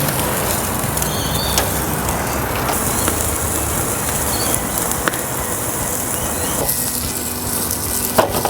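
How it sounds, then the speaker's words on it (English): Lamb cutlets searing directly over a PK charcoal grill, a loud, dense and continuous sizzle and crackle with occasional sharp pops, close up and without talk. "We're just going to put them on the grill here, directly cook."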